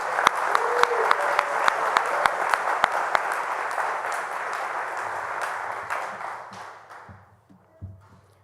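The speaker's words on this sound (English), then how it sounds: "can we please give one final hand for our honorees" An audience gives a final round of applause for honorees at a virtual Grand Chapter meeting, steady clapping that holds for several seconds before tapering off to quiet.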